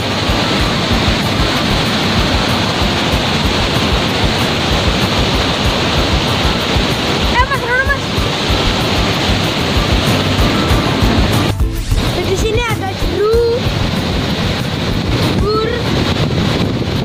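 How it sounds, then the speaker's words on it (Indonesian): Water sprays and splashes up from below at Dumpil dam in Ngaringan, Grobogan, a loud continuous rushing roar with wind buffeting the microphone throughout. "bukan hujan. Ini cipratan air tuh dari bawah."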